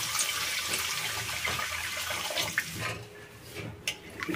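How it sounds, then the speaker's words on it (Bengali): Water pours into a pan of frying spices and ginger paste for Bengali shukto, a steady rushing splash and sizzle that gradually thins into softer bubbling and occasional clinks. "এতে দিয়ে দেবো জল"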